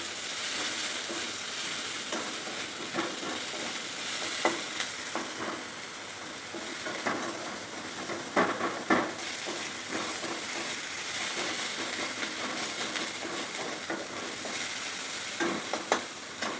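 Chopped onions fry in a small amount of oil for a fish curry with green bananas and potatoes, a continuous close sizzle with occasional stirring scrapes and pops, no voices.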